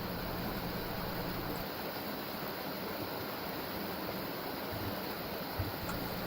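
A forest stream on a spring hike flows with a steady, full rushing and babbling of water, constant in level and heard alone without talk.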